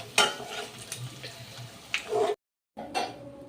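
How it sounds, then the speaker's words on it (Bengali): Prawns frying in mustard oil in a wok, a close crackling sizzle with stirring clatter and a few sharp spatula knocks, broken by a brief silent gap before the frying resumes. "চিংড়ি মাছগুলো কিন্তু আমি একটু লাল লাল করে ভেজে নেব"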